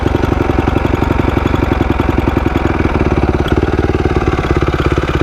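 A dirt bike engine idles high and steady at close range, with a fast, even pulsing putter and a faint knocking edge. The bike is a previously non-running machine that likely needs a top end rebuild. No one talks over it.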